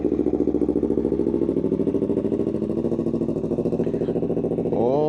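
Cold two-cylinder motorcycle fitted with a new KO Lightning exhaust, running loud and close with a steady, throbbing idle pulse that rises briefly near the end.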